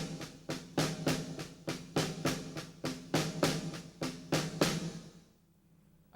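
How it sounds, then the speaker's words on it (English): A snare drum plays an accented pattern with doubled notes, a rapid run of crisp, evenly spaced strokes with louder accents, close and alone, stopping abruptly near the end. "It makes for good snare drum solo material, and it sounds like, if I had, for example, an accent pattern of this."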